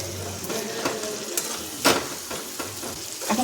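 Browned onion and chopped tomato sizzle in a pan, a soft steady frying hiss with a few scraping stirs and clinks of a utensil, close and without talk.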